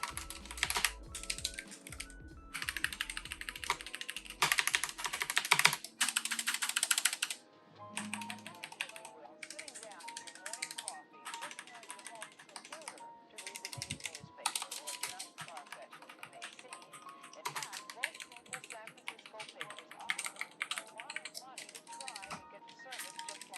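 Keys clacking on a Logitech G915 or SteelSeries Apex Pro mechanical gaming keyboard, a dense, steady run of close, crisp keystrokes with brief pauses, mixed with bursts of talk.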